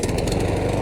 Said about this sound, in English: I just turned the height of cut up to the maximum that this old mower will go, and it's still doing a great job.